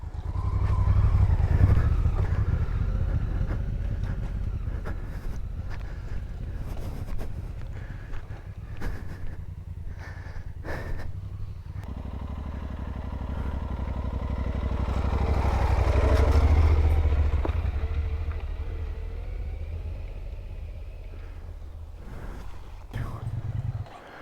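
An off-road trail motorcycle engine runs throughout, rising and falling with throttle during a riding training session, mixed with wind buffeting on the microphone and occasional shouted coaching.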